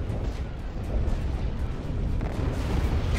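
Laser cannons firing in the Star Wars Empire at War space battle game, a dense, continuous barrage of booming blasts and bursts that stays loud throughout, with no clear gaps.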